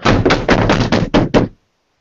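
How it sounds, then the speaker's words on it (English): Heavy fists pound on a door in a rapid run of about eight loud, close knocks, irregularly spaced, then sudden silence. "we heard a very loud banging on our door"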